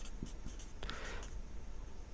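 A pen writing on paper during a maths lesson: faint, soft scratching strokes, with a slightly firmer scrape in the middle, over a steady background hiss and no talk.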